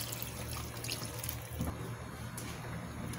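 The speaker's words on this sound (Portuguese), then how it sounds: "vamos acrescentar também uma xícara de água." A cup of water is poured into a tomato and ground meat sauce in a pan, a close, steady splashing trickle running for a few seconds with no voices.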